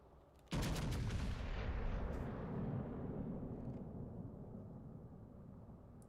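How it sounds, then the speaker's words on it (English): A warship's main-battery salvo booms out in World of Warships Legends after a brief quiet start, one heavy blast followed by a long rolling rumble that slowly fades over several seconds. "that was an accurate fucking salvo right out the gate from the Columbo"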